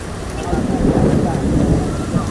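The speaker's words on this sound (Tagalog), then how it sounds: "Ayan na ang ulan." Steady rain falls at the Paliparan 3 intersection, a dense continuous hiss and patter with gusty low rumble, heard alone and fairly close.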